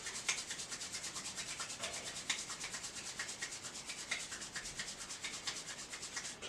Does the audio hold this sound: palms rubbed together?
yes